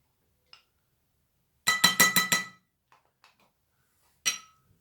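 Jelly bean candies are poured into a container in a quick burst of rattling clicks lasting under a second, framed by a few faint taps before and one sharp clink afterward, with no talking.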